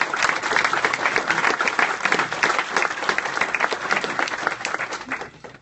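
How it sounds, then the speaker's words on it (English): A crowd at a hospital NICU ribbon-cutting ceremony claps in sustained, dense applause for the construction crew, steady and loud for several seconds before tapering off at the end. "So if we can give them a round of applause"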